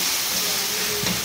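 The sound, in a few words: spice paste frying on the gas stove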